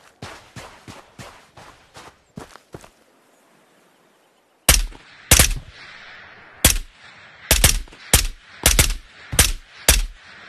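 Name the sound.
gunfire in the video game Ghost of Tabor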